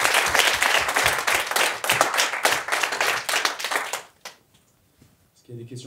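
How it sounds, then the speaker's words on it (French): Audience applause at the close of a French masterclass on conversion rate optimization, dense clapping for about four seconds that stops abruptly, followed by near silence and then a voice beginning to speak. "J'ai une petite séance d'applaudissements pour cette dernière."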